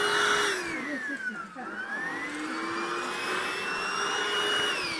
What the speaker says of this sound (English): this vacuum cleaner Hoover that we bought from Lidl